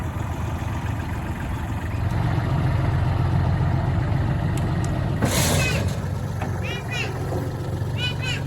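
A tractor engine runs close by with a steady low rumble, while a person speaks briefly and a few high chirps or squeaks sound near the end.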